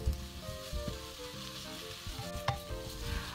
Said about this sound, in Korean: 마늘이 익으면서 향이 싹 올라오면은 고기 먼저 넣고 볶아줍니다